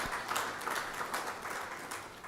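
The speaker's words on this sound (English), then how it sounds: "So I request you all, give a huge round of applause for this team ATPC as well." At the closing ceremony of a conference, the hall applauds the organizing team, a soft, fairly distant patter of many hands clapping with gently swelling rhythm.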